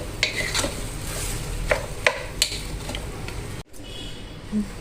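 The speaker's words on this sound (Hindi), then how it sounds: "ऐसे तेज़ आंच पर 15 मिनट कम से कम फ्राई करेंगी।" All-purpose masala, onion and tomato with oil, sizzles steadily in a pan over a high flame, with scattered clinks and scrapes of a spoon stirring against the metal. There is a brief pause near the end.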